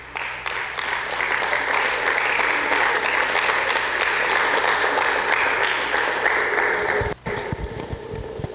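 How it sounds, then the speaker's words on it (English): Audience at a school competition applauds the runner-up with a full, steady round of clapping lasting several seconds, then breaks off abruptly into a few scattered claps and room noise. "Let's give him a round of applause."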